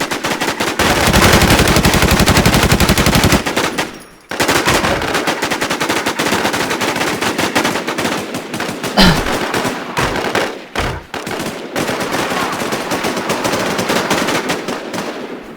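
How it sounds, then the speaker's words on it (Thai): Rapid automatic gunfire in the survival shooter Infestation: The New Z, loud and sustained with bursts of shots, brief gaps and a few heavier thuds, no talking over it. "กูยิงแตกเยอะมากเลยเพื่อน กูยิงแตกแตกเยอะมาก"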